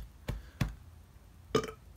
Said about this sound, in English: I got a burp trapped.